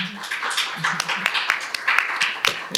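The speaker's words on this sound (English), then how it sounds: "please feel free to give them a round of applause as I mention them individually" Audience at a public health roundtable on the AIDS journey in West Michigan claps for panelists, scattered moderate clapping under faint talk and room murmur.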